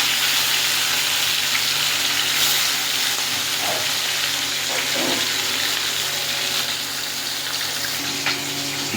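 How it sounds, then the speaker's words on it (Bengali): Pieces of catla fish fry in hot oil for a curry, giving a steady, close, broadband sizzle with a few faint clinks and small pops throughout. "এবার মাছটাকে ভেজে নেবো।"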